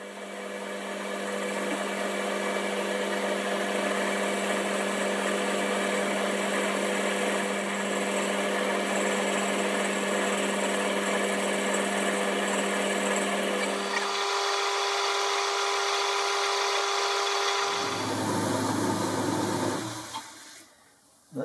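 A milling machine cuts metal with a steady, droning whir and layered mechanical tones, then the pitch and texture shift near the end as the cut changes and the machine spins down.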